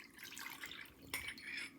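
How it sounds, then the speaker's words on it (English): A short, soft trickle of milk pouring into a bowl, quiet and close, with a faint splash partway through. "So now I'm gonna pour this milk into another bowl"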